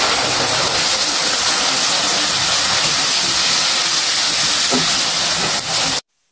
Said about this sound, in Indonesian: lalu baru dituangkan sausnya.